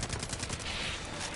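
An MP34 submachine gun fires in Far Cry 5: a short, loud, continuous burst of rapid automatic shots that fills the whole moment, with no talking.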